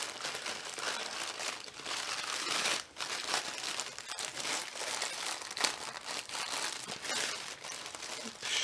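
Steady, faint paper and plastic crinkling goes on throughout as a handmade Christmas gift tag with washi tape is handled and slid into a shipping bag, with one short break partway through.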